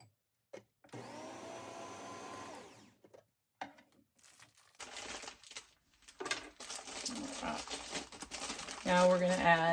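Sourdough chocolate chip muffin batter is mixed in a bowl: a steady, whirring motor-like hum runs for a couple of seconds, then bursts of scraping and clattering build louder toward the end.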